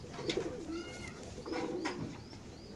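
Young racing pigeons in a pigeon loft coo softly in low, rolling murmurs, with a few faint chirps and rustles over a quiet room background.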